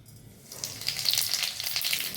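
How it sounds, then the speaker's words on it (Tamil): Cumin seeds splutter in hot oil in a kadai, a sudden bright sizzle that starts after a short quiet moment and keeps crackling steadily up close, with no talking. "காஞ்ச உடனே அதில் கொஞ்சம் ஜீரகம் போட்டு பொரிய விடலாம்"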